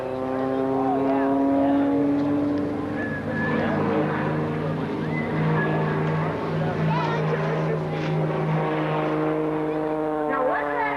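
Propeller engine of a championship aerobatic airplane flown by Patty Wagstaff at the EAA AirVenture Oshkosh 1991 air show, a steady loud drone with shifting pitch as the plane rolls, with a commentator talking over it.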